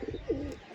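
A Madras pigeon gives a brief, soft, low coo close by.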